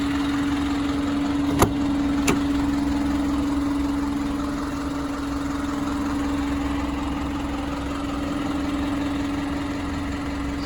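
A 2017 Isuzu NQR landscape truck's 5.2-liter four-cylinder diesel engine idles steadily up close, a constant low drone with two brief clicks early on and no talking.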